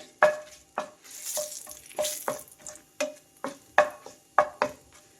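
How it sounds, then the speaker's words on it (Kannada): One Byadgi and one Guntur dried chilli fry in oil for onion chutney, with a low sizzle broken by a regular series of about ten sharp spatula scrapes and taps against the pan, close and clear. "ಒಂದು ಬ್ಯಾಡಿಗೆ ಮೆಣಸಿನ್ಕಾಯಿ ಒಂದು ಗುಂಟೂರು ಮೆಣಸಿನ್ಕಾಯಿ ಹಾಕಿದ್ದೀನಿ ಇದೊಂದು ಸ್ವಲ್ಪ ಫ್ರೈ ಆಗಲಿ ಎಣ್ಣೆಯಲ್ಲಿ"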